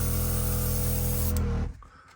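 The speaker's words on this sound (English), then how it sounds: "we're going to spray some white on it now" White spray paint hisses steadily and loudly onto a plastic Airfix model kit, a Captain Scarlet Angel Interceptor, for about a second and a half, then cuts off, leaving a quiet room.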